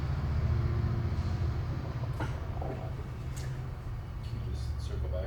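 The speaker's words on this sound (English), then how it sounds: "Sorry about the train." A train rumbles past nearby with a steady low, heavy roar that holds throughout, with faint higher rattles and squeaks over the top, while a quiet voice occasionally talks over it.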